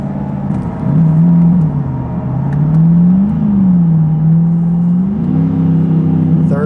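A heavily modified rear-wheel-drive Chevrolet Corvette C8 making about 1000 wheel horsepower accelerates hard, its loud engine droning and rising in pitch through the gears, heard from inside the car with brief dips at shifts as the rear tires lose traction.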